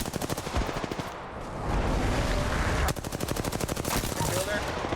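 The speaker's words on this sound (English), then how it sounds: "These are shooting at me." Rapid automatic gunfire in the battle royale shooter Apex Legends, close and loud, in fast steady bursts broken by a brief lull, with a voice faintly mixed in.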